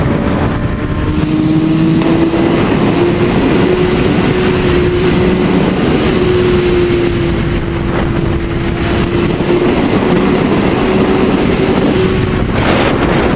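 A 2017 Honda CBR 600 RR motorcycle engine holds a high, steady whine under throttle while riding, loud and continuous over heavy wind rush, rising slightly at first and then staying level.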